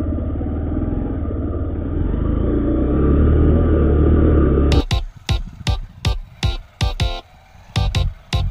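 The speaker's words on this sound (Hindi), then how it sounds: "बाइक को अब स्टार्ट कर लेते हैं भाई।" A Honda SP 125 motorcycle engine runs with a loud, steady close rumble, then breaks into a series of sharp, repeated bursts as the bike works up a steep off-road slope.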